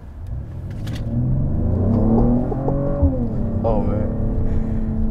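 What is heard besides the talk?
Mercedes-AMG GLE 53 Coupe 3-liter inline-six engine accelerating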